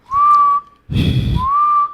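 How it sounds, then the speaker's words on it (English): A person whistles a sustained rising tone, breaks off for a burst of breathy, noisy air, then whistles the same steady note again, close and loud with no talking. "I'm trying to teach you how to whistle here"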